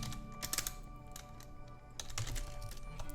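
Typing on a computer keyboard while writing HTML image code: a steady stream of light key clicks with a few louder clustered bursts, close and alone with no talking.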